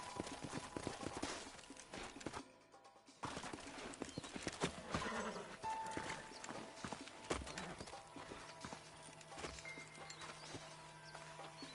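Horses in the Red Dead Redemption video game, with steady clip-clop hoofbeats and an occasional whinny over outdoor game ambience, plus brief faint voices.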